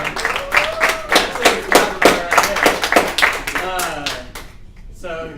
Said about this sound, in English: So even the teachers clapping backstage.